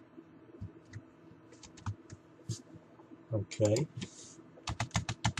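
Typing on a computer keyboard in irregular bursts of crisp clicks, some louder key presses near the end, with a brief spoken word in the middle.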